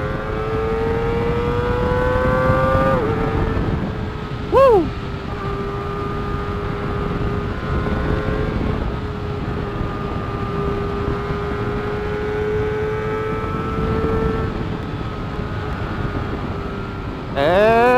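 Kawasaki ZX25R motorcycle fitted with a new exhaust, ridden with a continuous high engine drone, rising and falling in pitch through revs and gear changes, loud and close.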